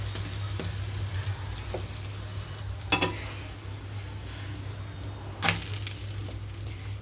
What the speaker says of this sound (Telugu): ఉల్లిపాయలు మనకి పచ్చిగానే ఉంటాయి కాబట్టి కొంచెం ఫ్రై అవుతుంది అన్నమాట